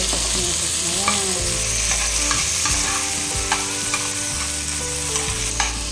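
Chili and tomato stirred in a hot frying pan, a steady loud sizzle with scraping stir strokes throughout, no talking.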